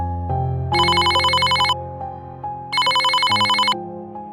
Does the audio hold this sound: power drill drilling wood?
no